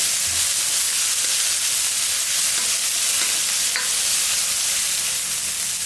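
Sliced big onion, cut lengthwise, fries in hot oil with spices for an okra masala fry, making a continuous loud sizzle with occasional stirring clicks and no talking.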